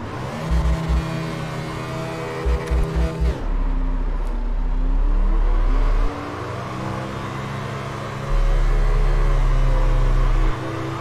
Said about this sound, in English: Second gear donuts.